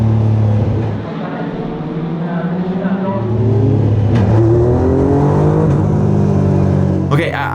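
A Legend race car engine roars loud and close, its pitch swelling and dropping as the throttle is slammed fully open and then shut in turns, with a person talking over it.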